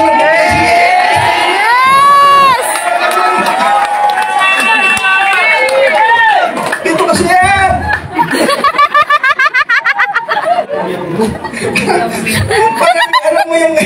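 An indoor event crowd shouts and cheers loudly and almost without pause, with high-pitched yells, laughter and excited voices rising and falling over a steady roar.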